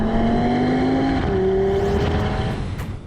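Audi RS6 engine revving while driving, a strong steady drone with a rising pitch that steps up midway through, loud and close, with no talking.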